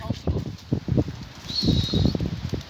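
Pigeons burst into flight from a loft, a quick series of wingbeats flapping close by, with a voice talking over them.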